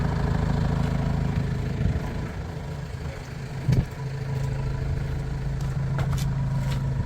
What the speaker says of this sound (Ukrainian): Заведений двигун. ви чуєте, як він працює